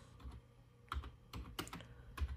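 Quiet keystrokes on a computer keyboard while logging in at a Linux command line: a loose, irregular run of soft clicks with brief pauses between them.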